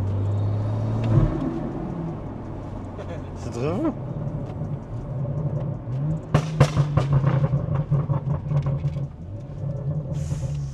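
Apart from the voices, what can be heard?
BMW M140i N55 engine revving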